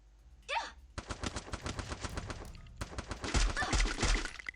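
Rapid bursts of automatic gunfire in the game Free Fire rattle loudly, with a short whooshing sound before the shots and dense overlapping reports throughout.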